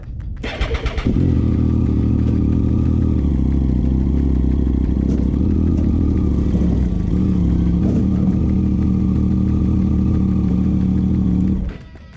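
Triumph Street Triple motorcycle ridden up onto a trailer, the engine catching with a sharp burst then a steady loud idle and low revving rumble close by for about ten seconds before cutting off abruptly.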